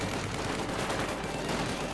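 Dense, continuous gunfire crackles throughout a busy battle in the real-time strategy game Company of Heroes 2, a steady roar of overlapping shots with no pauses and no voices.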